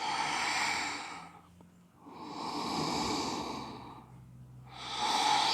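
Slow, deep belly breathing during a hatha yoga practice: three long, close breath sounds, broad and airy, with brief quiet pauses between them and no talking.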